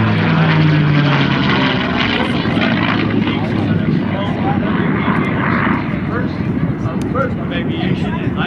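P-51 Mustang named Quicksilver flying aerobatics at an airshow, its piston engine and propeller droning loud and steady throughout, with an announcer talking over the roar.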